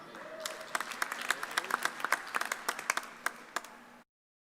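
Applause from a commencement audience honoring graduates at a Fall 2020 ceremony, a scattered patter of claps with sharp individual hand strikes standing out, building briefly and then cutting off abruptly after about four seconds.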